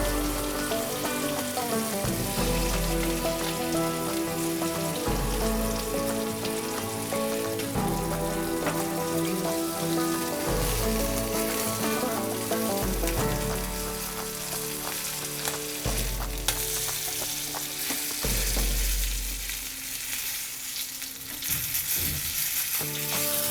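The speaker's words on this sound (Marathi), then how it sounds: "आपलं भरलं पापलेट मस्त दोन्ही बाजूने फ्राय झालेलं आहे." Stuffed pomfret fish shallow-frying in oil in a pan, a dense continuous crackling sizzle with periodic low thumps from handling the pan, close and loud with no voices.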